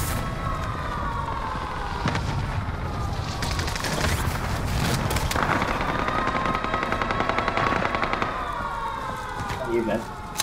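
Video game gunfire, with dense bursts of automatic shots and chaotic battle noise mixed with a loud, continuous background, while players talk over it.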